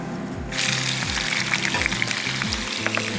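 Squid drops into a hot pan of oil and whole spices like star anise and bursts into a loud, close sizzle that stays bright and steady, with faint stirring knocks underneath.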